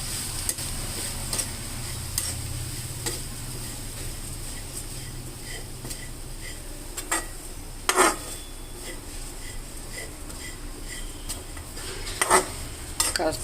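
Oats roast in oil in a pan over low heat, making a quiet steady sizzle while a spoon stirs and scrapes, with now and then a sharp metallic clink.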